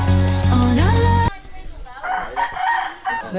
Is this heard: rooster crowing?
yes